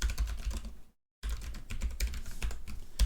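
Keys clatter on a computer keyboard in quick, uneven bursts of clicks, with one brief pause of silence before the rapid typing picks up again. The typing is close and clear, and nobody speaks.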